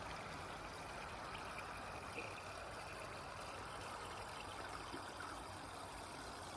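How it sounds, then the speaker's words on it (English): Water sprays steadily over garden plants as a soft, continuous hiss that stays faint and even throughout, with no voices. "I'm just going to give everything a little bit of water."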